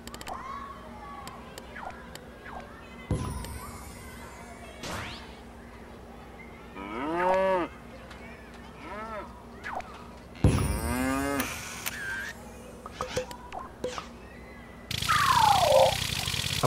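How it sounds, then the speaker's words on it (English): A cartoonish cow character named Elderflower moos in Little Big Planet 2, with drawn-out, wavering lowing calls repeating across the stretch amid game effects and a closing whoosh, a voice talking over parts. "You could emit Elderflower the cow,"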